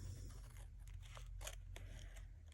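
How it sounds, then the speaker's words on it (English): Scissors trimming excess paper from a journal page, a few quiet close snips and light crunching over a faint steady background. "we better cut the excess off of here"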